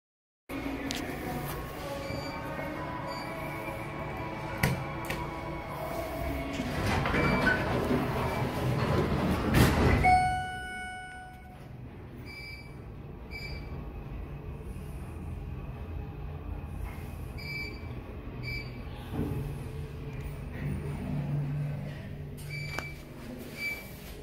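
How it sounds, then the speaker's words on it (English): A mall elevator with a badly worn door operator, a rising rumble and grinding as the door mechanism runs, then the lift travelling with a steady hum and occasional electronic beeps. "the door operator is wearing out extremely badly."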